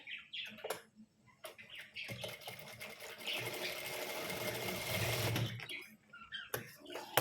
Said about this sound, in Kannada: ಮಿಷಿನಲ್ಲಿ ಒಂದೆರಡು ಸ್ಟಿಚ್ ಹಾಕ್ತಿದ್ದೀನಿ